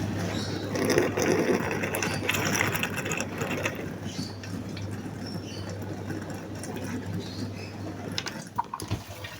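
A Brandt dishwasher's low motor hum with a steady churning, rattling mechanical whir of the spray arm turning and splashing water, continuous and moderately close, fading slightly toward the end.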